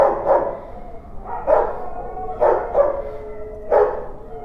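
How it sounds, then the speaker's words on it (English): Several dogs at an animal shelter bark and howl in repeated bursts with short pauses between, moderately close, with mournful wavering tones and no talking. "You hear some howling, some barking."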